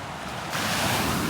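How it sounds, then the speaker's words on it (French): Atlantic ocean waves in Portugal rush and break up close, a broad roar that swells louder halfway through, with wind buffeting the microphone. "La taille des vagues."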